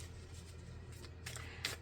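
Oracle cards being shuffled by hand, a quiet, steady papery riffle over a low hum, with a couple of brighter snaps near the end as cards slip.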